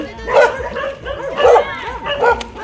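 A dog barks three times at a steady pace, close by, with soft whimpering and faint talking in the background.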